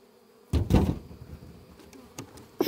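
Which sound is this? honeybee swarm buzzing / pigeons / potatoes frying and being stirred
honeybee swarm buzzing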